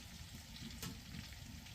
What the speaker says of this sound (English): Oh yeah, I hear that steak sizzle.